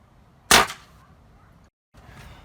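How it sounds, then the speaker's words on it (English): A single sharp crack of an air rifle firing a pellet while zeroing a scope, loud and close, decaying quickly into quiet room tone with a brief silence afterward. "I'm just going to take a couple more shots at the same spot"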